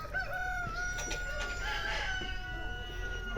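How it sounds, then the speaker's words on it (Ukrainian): Roosters crow at a distance, drawn-out calls overlapping against a quiet outdoor background with a low rumble. "розпівалися півні"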